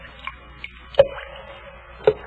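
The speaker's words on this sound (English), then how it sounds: "The sound you hear is dripping blood." Dripping blood: a few sparse, isolated drops fall at uneven intervals, each a sharp, close wet plip, with a faint hum underneath and no voices.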